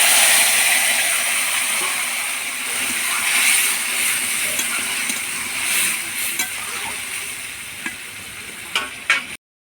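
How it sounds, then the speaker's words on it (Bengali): Potato, drumstick and bitter gourd curry goes into a hot pan with melted tomato, setting off a loud continuous sizzle with stirring scrapes and a few small clinks near the end. "এবার আলু ডাঁটা করলার চচ্চড়িটা ঢেলে দেবো"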